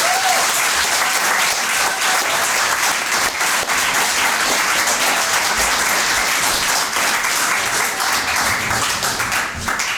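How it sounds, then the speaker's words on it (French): A theatre audience gives loud, roaring applause at a live stage show, a thick, unbroken wall of clapping held at full strength throughout. "C'est un applaudissement."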